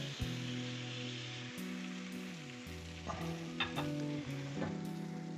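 Crêpe batter cooks in a non-stick pan with no grease, a quiet, even sizzle close by with a few soft taps and scrapes, alone without voices.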